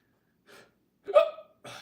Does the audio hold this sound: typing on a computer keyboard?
no